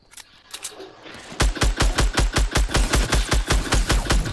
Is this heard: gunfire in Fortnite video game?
yes